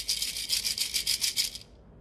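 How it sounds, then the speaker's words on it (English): A pair of maracas is shaken close up in a quick run of about ten bright, gritty rattles lasting under two seconds, then stops, with no talk over it. "These are called maracas, and you shake them to make a sound."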